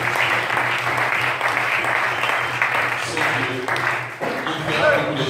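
A church congregation claps and cheers in sustained applause, a loud continuous wash of hands and voices that holds steady throughout with slight dips near the end.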